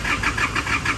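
An Isuzu D-Max engine cranks over on a weak battery, a close, loud starter whirr pulsing in a slow, even rhythm of about six labored turns within a second.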